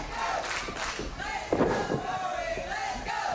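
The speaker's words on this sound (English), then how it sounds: "This crowd is really behind Corey Hollis." Wrestling crowd at a Rampage Pro Wrestling TV title match roars and cheers continuously, loud and close, with shouting and a thud in the ring partway through.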